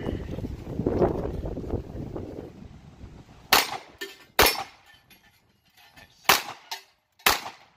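Sig Sauer P220 pistol fired at an outdoor range: four sharp, loud shots spaced irregularly over a few seconds, following a stretch of wind-buffeted handling noise.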